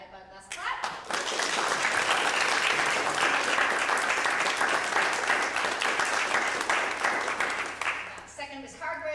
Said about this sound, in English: But let's clap.